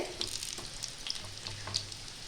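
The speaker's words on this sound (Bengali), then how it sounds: "দুই পাশেই ভালো করে একটু লাল করে ভেজে নেব আমি" Chicken tikki patties frying in a pan, a soft steady sizzle and crackle with small popping spits scattered through, fairly quiet and close, with no talking.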